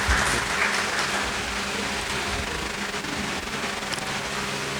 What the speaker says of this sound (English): a big round of applause for sir as well.